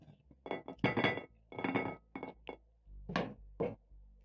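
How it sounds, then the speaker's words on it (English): Sweet potatoes are set one by one onto a stand inside a pressure cooker, a series of close, hollow clunks and clinks against metal with short quiet gaps between them. "and then I'm going to place in my sweet potatoes."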